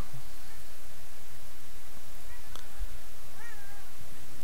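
A Minecraft cat meows once, faint and brief, against steady background hiss with no talking.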